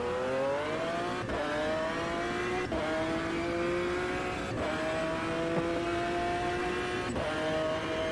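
A V12 race car engine in Automobilista 2 screams at high revs, climbing through the gears in a series of rising pulls, each broken by a sharp shift cut, loud and sustained throughout.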